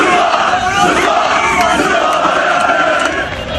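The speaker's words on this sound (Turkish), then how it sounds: "Taraftar tezahüratlar ve sloganlar eşliğinde eğlendi." Galatasaray football fans at a championship celebration in Ankara's Kızılay Square chant and cheer together, a loud, continuous roar of massed voices with rhythmic chanting filling the whole stretch.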